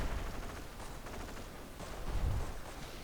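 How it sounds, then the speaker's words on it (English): An MG42 machine gun in a video game rattles off sustained, dense bursts of fire with heavy booming low end, a continuous battle din that swells briefly near the end. "MG42 set up. Let's see if it hits these ambushmen."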